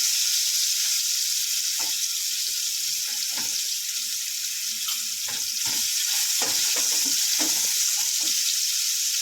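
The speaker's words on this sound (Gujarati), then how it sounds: "ટમેટા થોડા ગળી જાય ને ત્યાં સુધી આપણે હલાવશું." Chopped tomato fries in oil while being stirred, producing a steady close sizzle broken by irregular scraping and clinking spoon strokes against the pan, with no voices.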